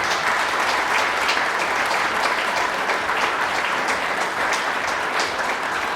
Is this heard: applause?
yes